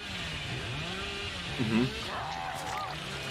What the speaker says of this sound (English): the real joy comes from his secondary weapon, the chainsaw